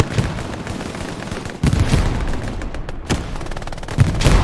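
Rapid gunfire and a rocket blast from a team shooter video game match, dense crackling shots and booming impacts filling the mix loudly and continuously.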